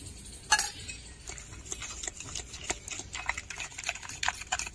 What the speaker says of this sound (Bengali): এই বরফগুলো আমি দিয়ে দেব